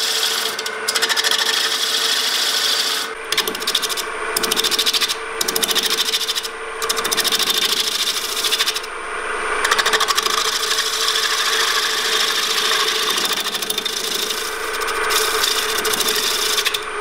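A wooden bowl spins on a lathe while light cuts are taken, producing a continuous harsh scraping rasp of the tool against wood, broken by several short pauses early on, loud and close throughout.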